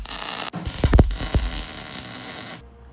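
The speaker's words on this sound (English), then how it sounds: "So what I'm going to do now is weld the other side." A welder works on a homemade trident, giving off a steady, close buzzing hum with a few sharp crackling pops early on. It cuts off abruptly near the end, leaving a quiet room tone.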